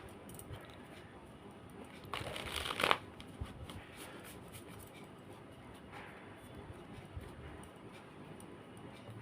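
Tarot cards are shuffled in one short papery riffle burst, set against quiet room tone.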